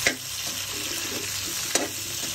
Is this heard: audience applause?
no